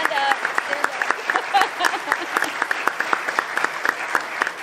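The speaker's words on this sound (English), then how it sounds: "Can we get a round of applause, please," Audience applause at an evening public panel event, steady clapping from a crowd that holds through the whole stretch, fairly close and moderately loud.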